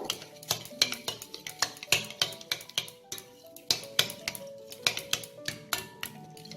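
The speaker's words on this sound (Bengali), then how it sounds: "টক দইটাকে আমি খুব ভালো করে ফেটিয়ে নেব" Thick sour yogurt beaten for a hariyali chicken kabab marinade makes a quick, regular series of sharp clinks and taps of a utensil against a bowl, close by and fairly quiet.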